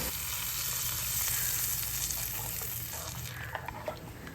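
Hot oil tempering of curry leaves and turmeric sizzles loudly and steadily as blended raw buttermilk goes in, then the hiss eases slightly toward the end with a few small pops.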